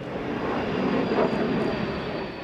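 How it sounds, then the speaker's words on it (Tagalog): US Air Force F-16 and Philippine FA-50 fighter jets fly over Basa Air Base in Floridablanca, Pampanga, during Cope Thunder exercises, a loud broad roar that swells to a peak midway and then eases off. "apat din na F-16 jets ng US Air Force ang pinalipad mula rito sa Basa Air Base sa Florida Blanca, Pampanga"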